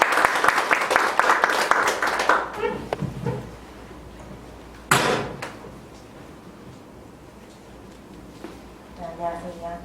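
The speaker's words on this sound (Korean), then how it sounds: "여러분 박수로 맞아주시기 바랍니다." Audience at a Chungbuk policy forum on single-mother support applauding as a speaker takes the microphone; a brisk burst of clapping fades after a couple of seconds, followed by a sharp knock, handling noises and a voice.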